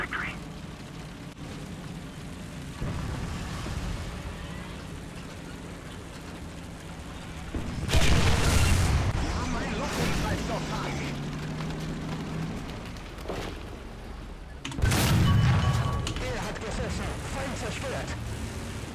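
In War Thunder, the Panther II tank takes two enemy shell hits that land as heavy, rumbling bursts over steady engine drone, spaced several seconds apart, with a player's voice talking throughout.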